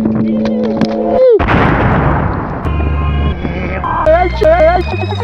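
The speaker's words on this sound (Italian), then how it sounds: "È uno sparo" A heavy gunshot-like boom bursts out loud and decays into a rumble, surrounded by music, synthetic sweeping tones and a voice.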